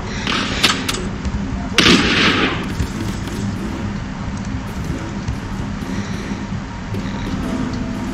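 Musket volleys ring out in a Totally Accurate Battle Simulator Alamo defence battle, a dense, continuous crackle of distant gunfire with one louder burst near two seconds, heard over a busy battle din.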